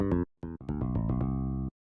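Raw, buzzy synth mid-bass layer for a liquid drum and bass track in FL Studio, a few short stabs followed by a longer held tone, unfiltered and bright.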